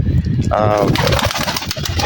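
A racing pigeon gives a close, throaty coo early on, while a person keeps talking over it.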